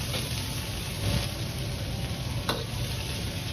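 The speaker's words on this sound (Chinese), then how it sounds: "再放入蒜苔段翻炒， 大概10秒钟左右，倒入控干水分的木耳和笋片翻炒" Garlic scapes, drained wood ear mushrooms and bamboo shoot slices are stir-fried in a hot pan for Shanxi guoyourou, producing a dense, loud sizzle with a brief scrape of tossing partway through.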